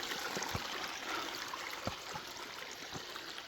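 A small stream and a low waterfall with little water trickle steadily through a forest, a soft continuous wash with a few faint knocks.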